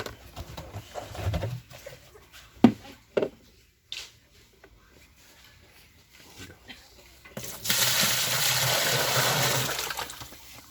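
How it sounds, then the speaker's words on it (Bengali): Five litres of water poured into a drum, heard as a steady, fairly loud gush in the last few seconds after quieter knocks and handling sounds. "পাঁচ লিটার পানি ঢেলে দিলাম সাথে ইস্ট ঢেলে দিলাম"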